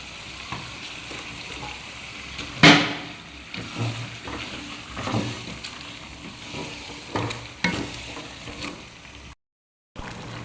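Ginger and cumin paste with salt sizzling in a pan, a steady frying hiss broken by scraping stirs and one sharp clatter near the start, no one speaking.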